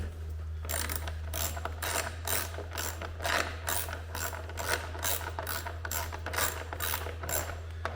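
Screws being tightened into plastic mounts while installing Can-Am signature lights on a 2020-2023 Maverick Trail, heard as a steady run of quick ratchet clicks from a close hand tool over a low constant hum.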